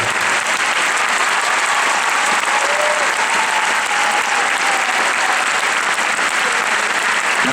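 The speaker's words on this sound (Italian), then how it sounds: "e vi ringrazio per questo applauso." A large concert crowd applauding at a show in Bologna, with loud, continuous clapping and faint cheers throughout and no speech.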